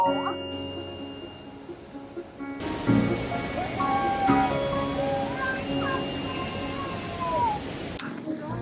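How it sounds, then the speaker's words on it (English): Steady rain hisses across the whole clip, a dense wash of noise, with faint bird-like calls and voices in the background. "we got big rain"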